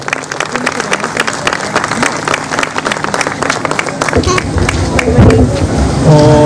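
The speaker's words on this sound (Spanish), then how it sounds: "otro fuerte aplauso para ellos en su presentación final" Loud crowd applause follows the final performance of an Andean ayarachi group at a festival in Chile, dense clapping and cheering with music starting up underneath toward the end.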